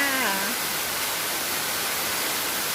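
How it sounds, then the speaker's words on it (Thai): A waterfall gives a constant broadband rushing roar, loud and even throughout, with a brief voice at the very start. "วันนี้มาดูน้ำตกสวยๆ ค่ะ"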